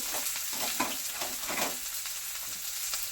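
Chopped red onions hit hot oil already seasoned with a pinch of mustard seeds, giving a steady close sizzle with bursts of crackle and occasional stirring scrapes, no voices.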